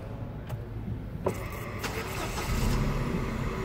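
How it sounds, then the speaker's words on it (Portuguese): A 2017 Chery QQ car is started: a few clicks, then the starter cranks and the engine catches into a steady, close running hum. "Dá partida agora."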